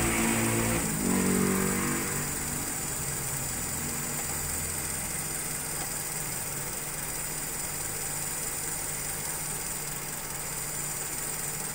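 A car engine idling too low at about 600 RPM, a steady rough drone with a faint tremor and a slight shift near the start, running alone and close for the whole stretch.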